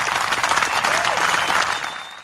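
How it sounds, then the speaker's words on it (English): A DJ's hand-clap sound effect plays as a dense, steady burst of many hands clapping like applause, lasting about two seconds before fading out quickly at the end. "DJ, hit the hand clap"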